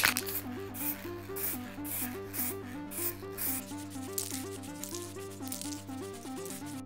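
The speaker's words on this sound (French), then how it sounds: "On est maintenant prêt pour poncer notre mastic." Car mirror putty is rubbed down with sandpaper after a speckled control coat of spray, giving rhythmic scratchy strokes that repeat about twice a second over soft background music.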